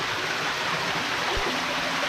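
A small stream of water flows steadily near lagoons outdoors, a loud, continuous, close rushing burble with a few low thumps and no talking.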